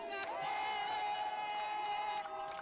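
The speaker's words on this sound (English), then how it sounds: "That's not a crowd of people that hate the fact that you came in here." Crowd of people cheering and shouting at a public gathering, a steady, distant roar of many voices with sustained whoops, continuous through the whole moment.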